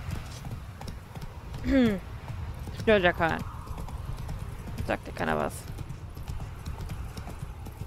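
Quick hoofbeats of a horse in The Witcher 3: Wild Hunt trot in short bursts alongside a horse's snort, with someone talking in German over the steady game soundtrack.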